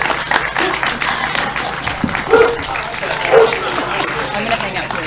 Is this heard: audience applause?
yes